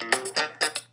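GarageBand guitar and bass loops play out of key with each other: four short, bright, clashing plucked hits in an uneven rhythm over a steady low hum, with no voices.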